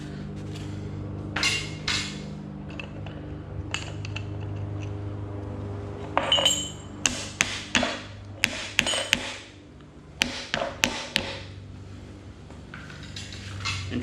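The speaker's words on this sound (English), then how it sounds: "put some epoxy on these and tap these in place" Small parts of a no-weld astromech droid ankle are tapped into place with epoxy, giving a series of sharp, close knocks and clicks, some in quick bursts and others spaced out, over a quiet background.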